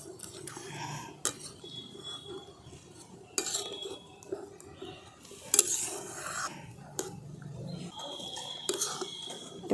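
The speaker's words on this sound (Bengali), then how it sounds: "এরপরে সুজিটাকে অল্প অল্প করে দিয়ে আমি মেশাতে থাকবো।" Semolina stirred into boiling water with potato over a low flame, soft scraping and occasional sharp utensil clinks against the pot, fairly quiet and close, with no voices.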